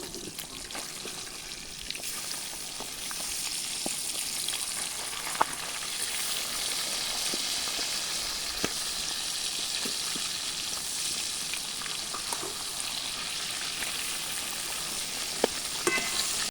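Rohu fish frying in hot mustard oil in a kadai gives a steady, dense crackling sizzle with scattered pops, close and continuous throughout, with no talking.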